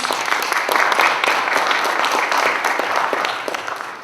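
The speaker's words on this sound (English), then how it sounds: "Let's give him a round of applause." An audience at an entrepreneur pitch event claps steadily for a few seconds, a dense, sustained round of applause that tapers slightly at the end.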